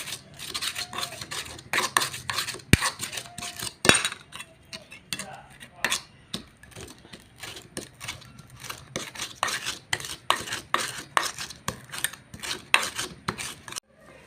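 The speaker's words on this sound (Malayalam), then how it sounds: "ഇനി അതിലേക്ക് അത്യാവശ്യത്തിന് വെളിച്ചെണ്ണ ചേർക്കുക. എന്നിട്ടൊന്ന് നന്നായി മിക്സ് ചെയ്തെടുക്കുക." Crushed kanthari chillies worked together with coconut oil in a bowl, giving a run of sharp, rhythmic scraping and clinking strokes of a spoon against the dish, fairly close and irregular in force.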